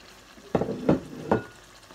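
Keema sizzles in a pan as it nears the end of cooking, three soft scraping stir strokes punctuating a quiet, steady frying hiss up close.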